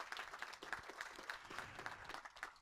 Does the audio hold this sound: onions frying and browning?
no